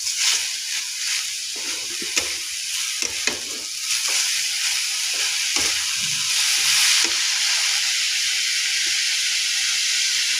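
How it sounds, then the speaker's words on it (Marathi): Sugar being stirred into beetroot halwa in a hot pan: a continuous steamy hiss and sizzle with scraping spoon strokes in the first half, then a smoother hiss. "त्याच्यामध्ये टाकायचे आहे साखर ते असे हलवून घ्यायचे आहे"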